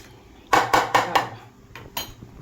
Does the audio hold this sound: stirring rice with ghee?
yes